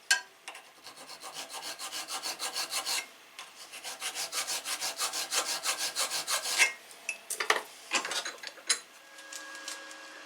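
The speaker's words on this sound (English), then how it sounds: "Edges were then trued up and squared with a file." A hand file rasps back and forth across the edge of a polyurethane bush, truing and squaring it in steady repeated strokes, close and clear, with a brief pause near three seconds and a few looser scrapes toward the end.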